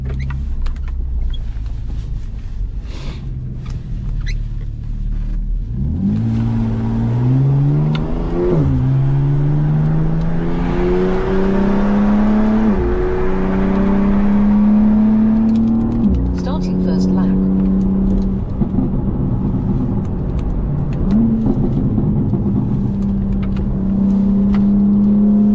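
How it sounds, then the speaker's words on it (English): A BMW G87 M2 time-attack build accelerates hard on the race track at Toronto Motorsports Park, engine note climbing through repeated rising gear pulls with brief drops at each shift, loud in-cabin. "Let's see what this car can do."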